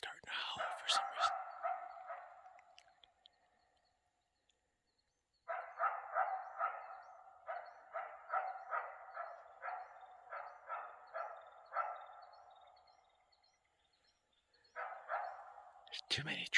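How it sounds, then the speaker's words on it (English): Coyotes howl and yip at dusk along the Arizona Trail, a close pack giving rhythmic bursts of yelps in two long bouts separated by a quiet gap. "the coyotes are starting to howl for some reason"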